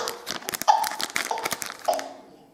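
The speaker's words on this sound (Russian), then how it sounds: "Давай открывать следующий пакетик." Plastic surprise bag being opened by hand, a close run of sharp crinkles and crackles that fade out toward the end.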